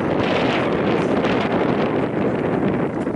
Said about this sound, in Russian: Ветер не помех?